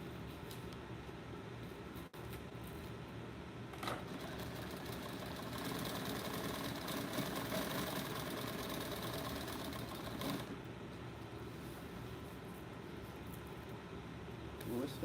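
A sewing machine stitches fabric in a steady mechanical whir that runs at a moderate level with a few brief pauses, while people talk nearby.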